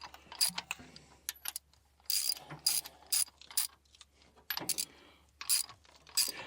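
Ratcheting wrench snugging cylinder head bolts on a dozer engine, irregular bursts of sharp metallic clicks separated by short pauses, close and fairly quiet, with no talking.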